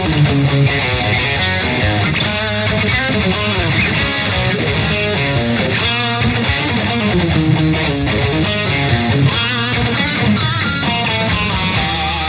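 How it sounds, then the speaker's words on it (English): Distorted electric guitar rhythm riff from the breakdown, played just before the solo, steady and loud throughout with full-band-like density and no talking. "So we now get into the breakdown bit before the solo, and that sounds like this."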